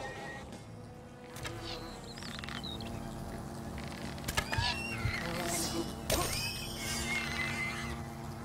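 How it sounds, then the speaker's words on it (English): Insect-like buzzing from a swarm of wasps in the video game Fable Anniversary, a steady drone with higher whines weaving over game music and effects, fairly close and continuous. "More wasps have spawned."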